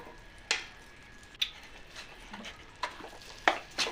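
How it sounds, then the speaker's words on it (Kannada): Besan flour roasting in ghee in a pan for besan laddu, stirred with a spoon that gives soft scrapes and occasional sharp clinks against the pan, quiet and close with no talking. "ಇವಾಗ ಮತ್ತೊಂದು ಸ್ವಲ್ಪ ತುಪ್ಪ ಹಾಕ್ಕೊಂಡು ಮತ್ತೆ ಹುರಿತಾ ಇದ್ದೀನಿ"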